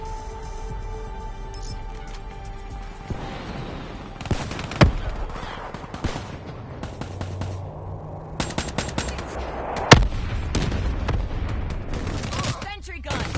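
An automated sentry gun in Call of Duty Black Ops 3 fires long, dense bursts of rapid gunfire mixed with explosions and game effects, loud and continuous, with game voices heard in places.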